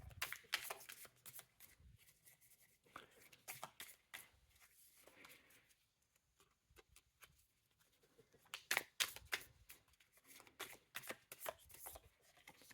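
Tarot cards shuffled by hand in bursts of crisp riffling and flicking, with a quieter pause in the middle before a busier stretch of rapid card slaps and riffles near the mic.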